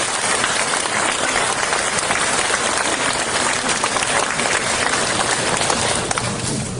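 Audience at a signing ceremony for aircraft-noise school support giving a round of applause, a dense, steady roar of many hands clapping close by without pause.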